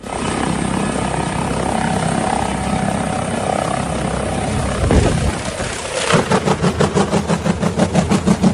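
A rescue helicopter roars loudly and close throughout, then its rotor shifts to a distinct rhythmic chopping pulse as it moves during a rescue operation that ends in a crash.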